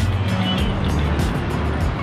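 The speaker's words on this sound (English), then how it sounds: "Oh, the other Golf is pulling up." A Volkswagen Golf pulls up nearby, its steady low engine rumble running continuously throughout with faint hiss above.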